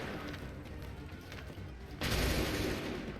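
Musket volley in Assassin's Creed 3 as a sudden loud burst of massed gunfire, breaking in after a steady rumble of battle noise and ringing on for about a second.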